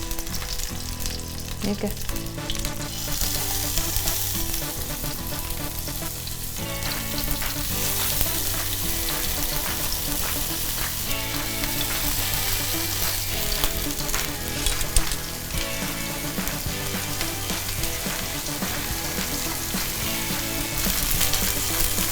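A cabbage roll frying sealed side down in a little oil in a hot pan gives a loud, continuous crackling sizzle close up, with brief stirring or utensil sounds and a single short spoken word.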